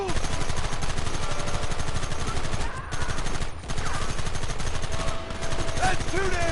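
Gunfire in the video game Red Dead Redemption: rapid, continuous bursts of machine-gun and rifle shots, loud and close, with brief pauses and faint voices mixed in.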